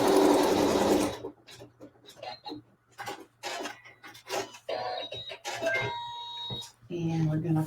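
A sewing machine stitches a quilt seam in one loud steady burst at the start, followed by a person talking over quiet handling noises and brief machine whirs.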